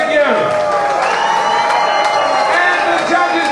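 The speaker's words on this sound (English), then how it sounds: "Give a round of applause, please." A crowd at a combat sports fight claps and cheers loudly throughout, with whoops and shouting voices mixed into a dense, continuous roar.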